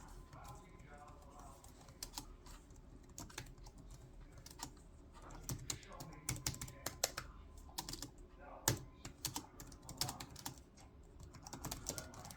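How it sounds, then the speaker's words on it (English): Rapid typing on a SABLUTE RGB wireless keyboard, a quiet, busy patter of key clicks in uneven bursts heard up close with no talking. "This is how I usually type."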